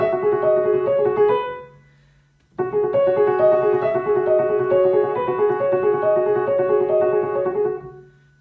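Quick, even run of piano notes in a steady rhythmic pattern, stopping briefly before resuming for several more seconds; no voices.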